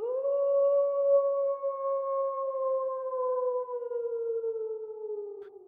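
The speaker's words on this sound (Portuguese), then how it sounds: "Um uivo que parecia mais um choro." A long, wavering howl holds for several seconds, a mournful, crying tone that slowly sinks in pitch and stays loud and close throughout.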